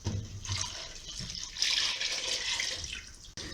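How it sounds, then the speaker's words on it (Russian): Milk pours into a large pot holding sugar for homemade condensed milk, a close, continuous splashing liquid stream that swells midway and cuts off near the end. "Сюда мы высыпаем сахар. Заливаем молоком."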